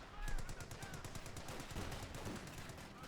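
Rapid bursts of automatic gunfire and rifle shots in the Company of Heroes 2 real-time strategy game, a loud, continuous battle din with repeated cracking shots under a dense wash of combat noise.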